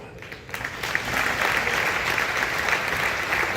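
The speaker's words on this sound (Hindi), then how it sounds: "पीछे तक ईमानदारी से ताली बजा के बताना" A live comedy show audience claps together in sustained, dense applause that swells after a brief quieter start and holds steady.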